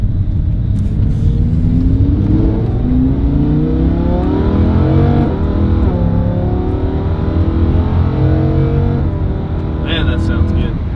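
Lamborghini Huracan engine revving with a loud, steady exhaust note that rises and falls in pitch throughout, heard from close by with faint talk underneath.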